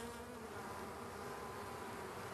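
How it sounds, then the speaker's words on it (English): A honeybee foraging on a blossom buzzes close and continuously, a steady droning hum with no pauses. "stirred up by the honeybee as she rummages around on the blossom"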